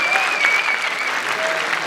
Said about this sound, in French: Je tiens à vous le dire et vous applaudir encore.